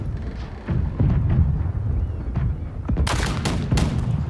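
Battle gunfire in the naval combat game Black Wake: a steady low rumble of distant shooting, then several sharp, loud shots cracking out close together near the end.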